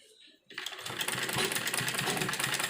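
A sewing machine stitches along the edge of frock fabric. After a quiet start, the motor starts up with a rapid, rattling needle chatter that runs steadily and fairly close.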